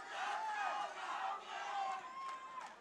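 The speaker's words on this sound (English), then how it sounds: "the crowd's going crazy for these two guys" Spectators at an MMA fight cheer and yell in swelling waves, a distant, roomy roar with rising shouts, fairly faint overall, without clear commentary over it.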